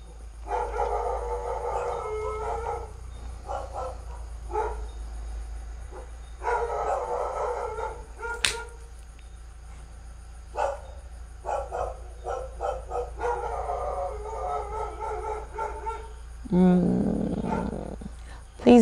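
Dogs howling and barking in bursts, repeated wavering calls at a moderate distance with gaps between them, and a voice speaking briefly near the end.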